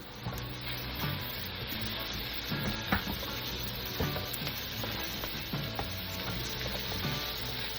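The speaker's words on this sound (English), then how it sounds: "let's go ahead and add our vegetables in. We're gonna go ahead and get these sauteed" Kale greens sauté in hot oil in a pan, giving a steady, dense sizzle with scattered clicks and scrapes as they are stirred throughout.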